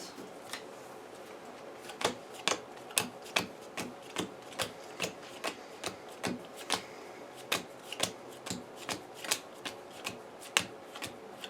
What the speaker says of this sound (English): And you get that shuffle and cut, and that'll be that.